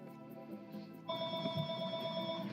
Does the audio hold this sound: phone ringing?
yes